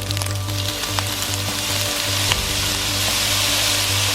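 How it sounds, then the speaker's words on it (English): Fried rice sizzles loudly in a pan as soy sauce goes in, a dense, constant hiss with a low pulsing hum underneath and occasional clicks, close and continuous with no talk. "I'm gonna go ahead and add some soy sauce to this rice now"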